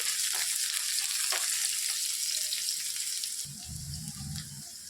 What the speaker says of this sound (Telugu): సన్నగా తరిగి పెట్టుకున్న ఉల్లిపాయ వేసేసుకోవాలి, బాగా ఫ్రై చేసుకోవాలి.